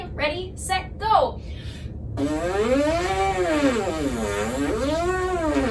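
A person buzzes their lips together as on a French horn mouthpiece, producing a loud, wavering buzzy tone that slides up and down in pitch, after a brief spoken countdown.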